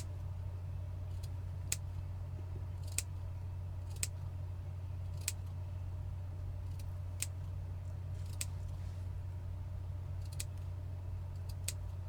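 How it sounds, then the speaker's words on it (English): Scissors snip through fabric while a sewing pattern piece is trimmed all the way around: about ten crisp, faint cuts spaced roughly a second apart over a steady low hum, with no talking. "once I finish snipping"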